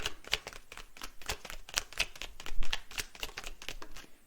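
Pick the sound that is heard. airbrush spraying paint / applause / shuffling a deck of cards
shuffling a deck of cards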